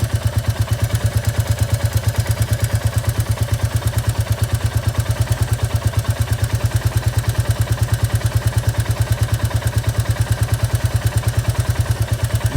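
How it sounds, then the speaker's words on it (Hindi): A Royal Enfield Classic 350 idles steadily up close, its regular low single-cylinder thump carrying a persistent mechanical ticking clatter throughout, with no talking. "ये जो आवाज़ आ रही है मुझे टिक टिक करके यहाँ"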